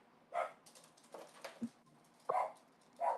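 A dog barks at the mail carrier, with a few sharp barks and yips set apart from each other, heard from nearby in a quiet home.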